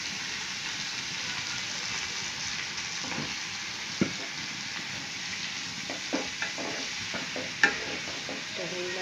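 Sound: leafy greens frying and being stirred in a pan

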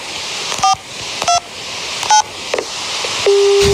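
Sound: telephone dialing tones

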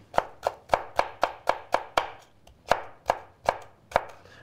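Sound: knife chopping red pepper into strips

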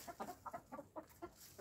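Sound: old hens clucking

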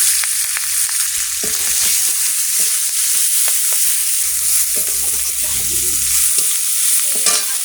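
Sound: frying whole black cumin, onion, garlic and chili in oil

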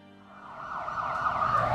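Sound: ambulance siren

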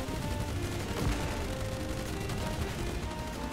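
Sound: gunfire shooting at explosive barrels in the video game Age of Water

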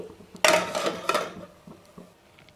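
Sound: lid put on pot of cooking spinach garlic curry

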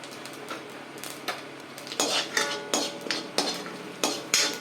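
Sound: mustard seeds, urad dal and cumin frying in hot oil

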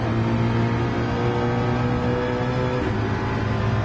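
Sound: Mustang race car engine at Interlagos in racing video game

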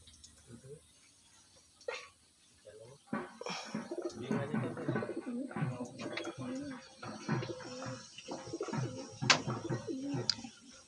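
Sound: pigeons cooing in a pigeon loft

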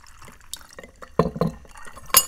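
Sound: berry kombucha being poured into a glass

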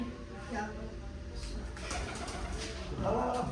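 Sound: pigeons cooing

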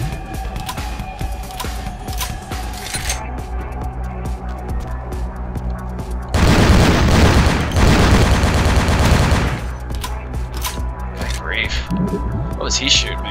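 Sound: gunfire from a video game

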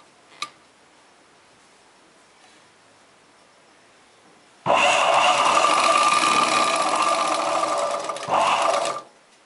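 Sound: sewing machine stitching chudidar pant

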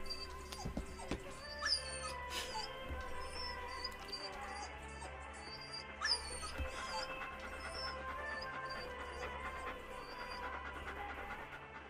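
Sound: dog whimpering in the Silent Hill 2 video game ending

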